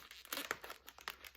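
A plastic bag crinkling as a colored pencil is pushed through it, with several short, close crackles and rustles in a quiet setting.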